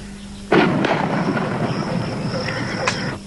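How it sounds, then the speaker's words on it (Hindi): Artillery guns fire in a wartime film scene with a sudden loud blast that rolls on into a long rumbling boom. A second fainter report comes near the end over sustained low noise. "Five round gun fire."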